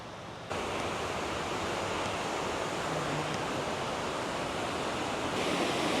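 Steady roaring rush of a waterfall in Pisgah Forest, North Carolina, broad and constant, close and fairly loud with no voices.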